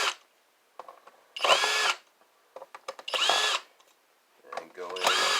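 A cordless power drill whirs in three loud bursts while backing screws out of a computer keyboard, with clicks, rattles and brief handling noises between runs.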